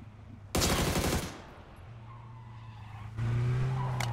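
A video game car skids loudly in two bursts, a harsh broadband screech with engine drone between them, the second carrying a strong low engine tone.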